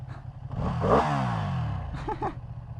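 A heavily vibrating Ducati motorcycle engine with stock exhaust rumbles and swells briefly as it passes or revs, with clattering and wind noise around it, no talking.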